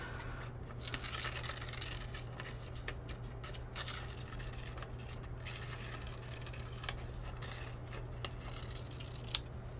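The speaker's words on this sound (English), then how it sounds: "Cutting with these scissors," Scissors (not fabric shears) snip through craft material for a plush base, giving steady close crisp cutting and rustling that runs throughout, quiet, with no talking.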